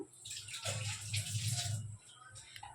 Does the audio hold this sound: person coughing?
no